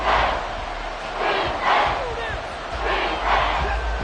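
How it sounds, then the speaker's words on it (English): Stadium crowd roaring in a Madden football video game, a broad sustained roar that swells in waves at close range, with no talk over it. "This crowd turning up the decibel level"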